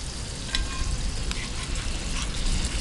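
Salmon fillet sizzling and frying on a parabolic-mirror solar cooker as it is flipped, a steady loud crackling hiss with a few brief scraping clicks over it.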